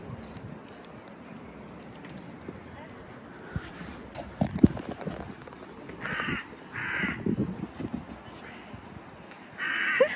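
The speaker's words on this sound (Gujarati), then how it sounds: "એ કાગડો સામે પડ્યો" Crow caws ring out in short repeated bursts in the later half, over a background of people talking and outdoor clatter near a garden.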